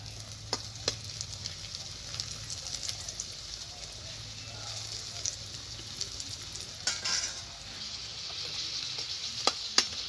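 Homemade children's tiffin snacks deep-fry in hot oil with a continuous crackling sizzle, with a few sharp metallic clinks and stirring scrapes close by.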